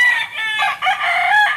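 A rooster crows loudly and close, its long call dominating, with hens clucking around it.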